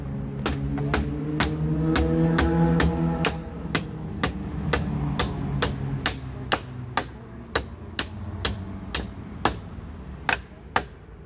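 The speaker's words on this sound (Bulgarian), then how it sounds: "след кратка почивка Мони ще почва да забива втори пирон." A small hammer drives a nail into a wooden board while a wooden house is built: about twenty sharp, ringing knocks in a steady rhythm, close and distinct, with a droning hum under the first few.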